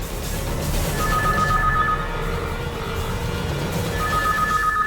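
A telephone rings in short electronic bursts over a busy background hum, with a pause between the two rings.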